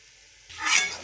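Soybean vegetable masala roasting in a pan: quiet at first, then a soft swell of sizzle and stirring that rises and fades, no talk.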